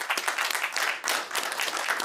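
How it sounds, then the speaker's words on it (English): Audience applause for a conference panel on democracy in the digital space, a short, dense burst of clapping at moderate loudness. "let's give a big round of applause to our panel."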